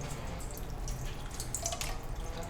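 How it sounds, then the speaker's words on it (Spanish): Water trickles and drips steadily into a kitchen sink or bowl while chile peppers are rinsed, a soft continuous splashing with faint clinks, no voices. "Se llama lavar el chile, lo vamos a lavar."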